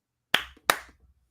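Two sharp, close hand claps from one person, evenly spaced about a third of a second apart, each with a short decaying ring, surrounded by near silence.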